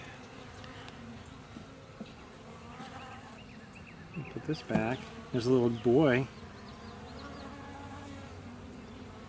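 Honeybees buzz in an opened hive that has just accepted a new queen: a constant, faint, droning hum throughout, with louder wavering buzzes rising up close for a couple of seconds midway, while a person speaks briefly.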